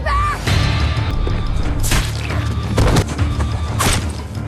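Several loud, sharp gunshot cracks in quick succession, each with a booming echo, mixed with crashing impacts and a brief voice.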